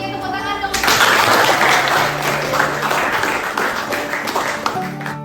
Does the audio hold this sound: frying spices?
no